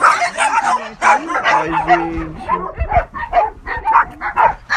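Dogs yip and bark amid chatter at an animal adoption event, their short barks and whimpers mixing with close, excited talking voices throughout.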